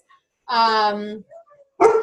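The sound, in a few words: dog barking excitedly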